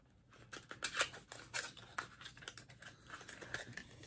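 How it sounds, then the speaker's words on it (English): Scissors snip and click repeatedly up close while cutting open a beauty subscription package, a quiet run of small, uneven crisp clicks. "Trying to open it with my scissors"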